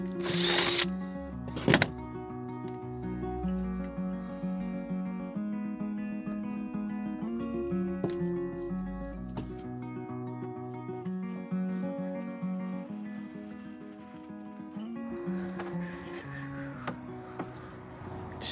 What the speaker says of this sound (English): I've just gone in with my step drill